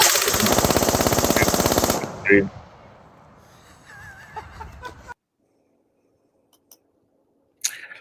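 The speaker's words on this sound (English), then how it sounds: "Less than 3 seconds, 33 rounds." Rapid burst of gunfire, 33 rounds fired in under three seconds, loud and close, followed by fading echoes, brief clicks and a voice.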